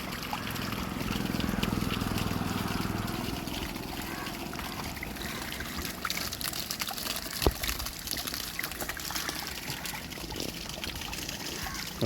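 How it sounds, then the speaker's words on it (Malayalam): Water running out of a leaking pipe setup from above, a continuous trickling, splashing wash at moderate level, fairly close and steady for the whole stretch, with faint voice-like sounds mixed in early on. "ഇവിടെ നിന്നാണ് വെള്ളം പോകുന്നത് മുകളിൽ നിന്ന്"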